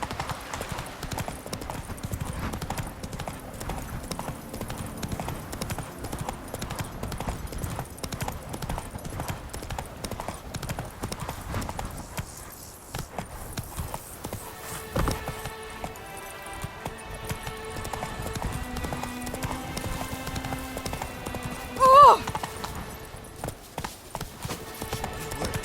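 Hooves of a horse galloping in The Witcher 3 video game, a continuous rhythmic clip-clop at a steady pace under game music and ambience, with a brief louder burst late on.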